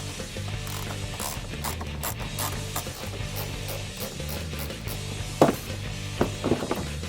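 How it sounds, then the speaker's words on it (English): A ratchet clicks steadily in quick repeated strokes while headlight bolts are removed on a Ford Focus ST, close up, with a few louder clunks of metal toward the end. "Remove now the bolts that hold the headlights in."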